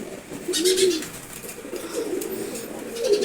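Racer pigeons, a Maxi racer among them, coo in repeated low rolling phrases close by, with a few brighter chirps mixed in and no talk over them.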